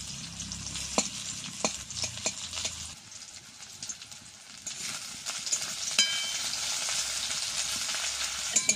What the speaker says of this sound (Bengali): কড়ার তেলে আমি পেঁয়াজ কাটা দিয়ে দিচ্ছি।